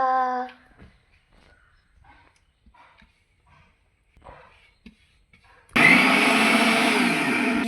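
An electric mixer grinds garlic, bird's eye chili and coconut, starting abruptly after a quiet stretch of soft kitchen sounds and running loud and whirring to the end; a brief tone sounds at the start.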